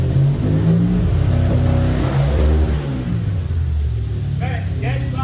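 A car engine revs up hard as throttle is given, a loud sustained rumble and roar that drops slightly in the middle, with people talking over it throughout.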